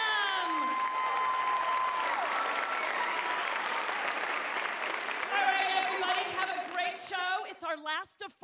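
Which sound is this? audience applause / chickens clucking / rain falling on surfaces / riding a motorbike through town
audience applause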